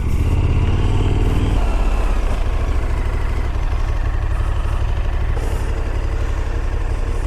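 A KTM 1290 Super Adventure 2021 motorcycle engine runs loud and close, a steady deep idle rumble that holds for the whole stretch with no talk.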